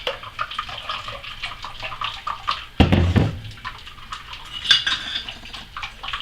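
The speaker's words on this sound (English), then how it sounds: "I'm just going to pour it in here like so." Chocolate almond milk poured into a small strainer, a close liquid splash with clinks of utensils and dishes, and a louder gush near the middle.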